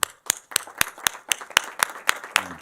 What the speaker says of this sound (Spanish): Recibimos con un aplauso a Andy Stallman.